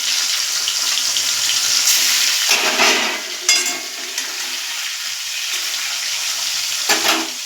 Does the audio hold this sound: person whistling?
no